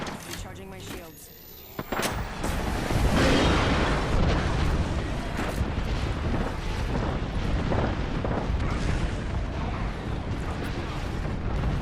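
Booming airstrike explosions from the video game Apex Legends rumble continuously and loudly, with heavy blasts layered over one another after a brief quieter start, and game voice lines mixed in.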